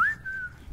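A single clear whistled tone from a person, rising briefly then holding a steady pitch for under a second, close and alone with a quick upturn at the end.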